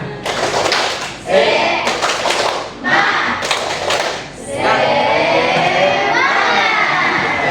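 Children perform a rhythmic clapping chant in a classroom, bursts of group claps and thumps alternating with shouted chanting voices, ending in sustained loud crowd-like cheering and shouting.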